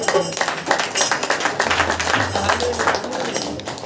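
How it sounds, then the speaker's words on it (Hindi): A church congregation claps hands together at a Saturday prayer meeting, a steady run of close, loud claps lasting a few seconds with no speech over it. "यीशु मसीह हालेलुया ताली बजाकर"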